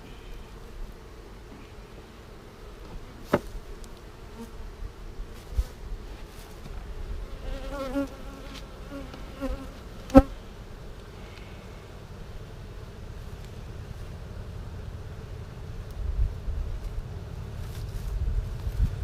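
Steady insect buzzing, many honeybees humming together around the hive in a low continuous drone, with a few faint clicks and knocks nearby.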